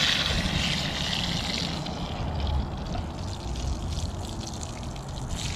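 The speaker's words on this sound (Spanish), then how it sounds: "Voy a echar mis frijoles a freír. Está chillando la cazuela." Beans fry in a clay pot, giving off a continuous crackling sizzle and hiss that runs steadily throughout, close up with no voices.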